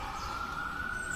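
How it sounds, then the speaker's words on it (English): Emergency vehicle siren outdoors, a steady high wail holding one pitch at moderate distance over low rumbling background noise, with no voices. "That's the sound of the siren there."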